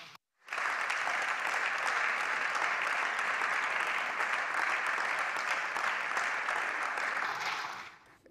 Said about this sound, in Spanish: cuando Beatriz Fanjul se arranca a aplaudir